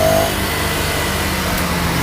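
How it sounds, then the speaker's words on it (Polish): Ducati Scrambler Sixty2 motorcycle engine through a short, minimalist exhaust, a steady close mid-pitched rumble held for about two seconds without speech. "okazja do sprawdzenia, jak brzmi ten, ten krótki i niezwykle minimalistyczny układ wydechowy"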